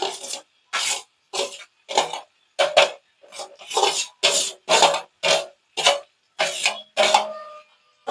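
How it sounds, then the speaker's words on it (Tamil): Chopped okra goes piece by piece into a cooking pan, making about a dozen separate clinking drops in a steady, evenly spaced rhythm. Each drop is close and crisp, with silence in between. "நான் 10 வெண்டிக்காய் எடுத்தேன், 10 வெண்டிக்காயும் போட போகிறேன்."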